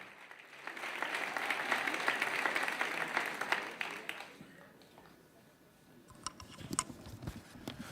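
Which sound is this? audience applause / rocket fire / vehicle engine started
audience applause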